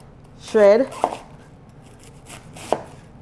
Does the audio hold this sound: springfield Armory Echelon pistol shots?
no